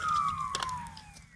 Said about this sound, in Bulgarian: вижте и пожарни идват